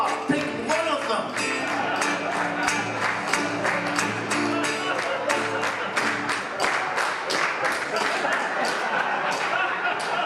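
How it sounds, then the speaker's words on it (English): A live audience claps along in steady rhythm to a song, producing crisp, evenly spaced hand claps over music, with a voice heard over the beat. "So come on, brothers and sisters, clap your hands."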